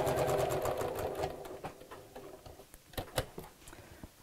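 A sewing machine stitches fabric in a steady rapid rhythm, running loud and close at first, then slowing into scattered separate clicks and taps as it stops at a corner with the needle down, alone with no talk.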